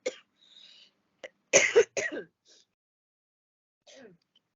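A single cough bursts out in a classroom during a physics revision lesson on electricity, with a few quieter throat sounds and breaths around it.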